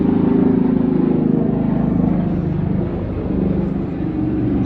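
A helicopter passes overhead, heard as a continuous low, droning rotor rumble at moderate distance that eases off slightly toward the end.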